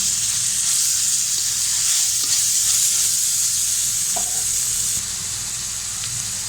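Chicken tossed with chopped carrot, peas and spring onion stir-frying in a pan for vermicelli chow mein, giving a steady, loud, even sizzle throughout with faint scraping of a spatula and no voices.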